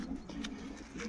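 Sport pigeons coo steadily in a loft, a low continuous murmur of several birds close by with no speech.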